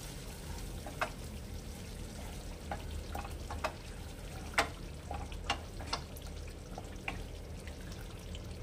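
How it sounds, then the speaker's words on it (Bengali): Ginger garlic paste fries quietly in a small tawa, a low faint sizzle broken by scattered sharp pops and light clicks, close but soft, with no talking. "এটা একটু ভেজে নেব।"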